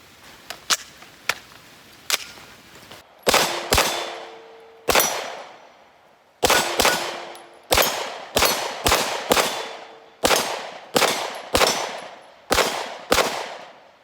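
Gunfire from a CZ Scorpion fed from Magpul EV9 magazines, with sharp single shots and then a run of loud reports at steady intervals, each trailing a ringing echo outdoors.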